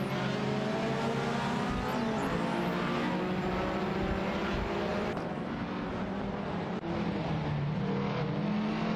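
Race cars in an AI racing video game roar continuously with layered engine tones, several cars overlapping at steady loud level, a brief dip near the middle as the mix shifts.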